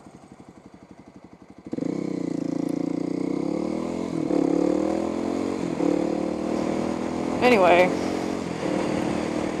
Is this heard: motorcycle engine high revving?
yes